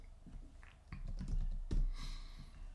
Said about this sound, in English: let's just type in piano right here